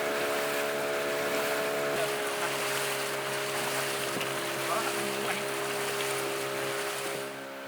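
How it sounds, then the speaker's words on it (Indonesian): A traditional motorized canoe travels along a river, its outboard engine droning steadily and loudly over water rush and wind before easing off near the end. "Menggunakan sampan motor tradisional ini bersama motorisnya yang ramah"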